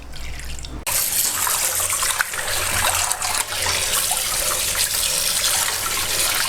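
Tap water runs steadily and close by as fish are rinsed clean at a kitchen sink, a continuous splashing flow that starts abruptly after a brief quieter moment and carries on alone to the end.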